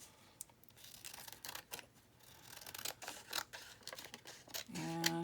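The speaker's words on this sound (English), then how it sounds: "So just a matter of cutting this out." Scissors snip through paper while a ladybug craft piece is cut out, a string of short crisp cuts close by, getting louder toward the end with a brief tonal rattle at the finish.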